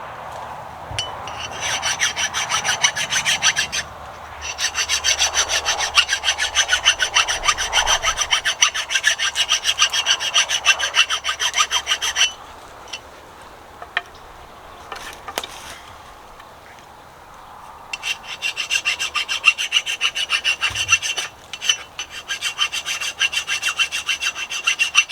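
A hand file rasps over the edge of a cutting tool in long, repeated strokes, with two extended bursts of scraping separated by a quieter pause and a brief click. The sound is close and fairly loud.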